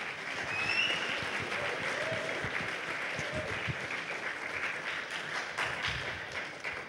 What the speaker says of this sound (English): let's give a big round of applause for all the participants here